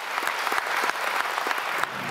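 A home crowd at a Conservative Party campaign event applauds Prime Minister Rishi Sunak, a dense, steady, warm clapping throughout from a room full of people.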